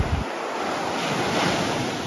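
Ocean waves rolling onto Karon Beach in Phuket, Thailand, a loud, steady wash of surf with heavy wind buffeting the microphone throughout.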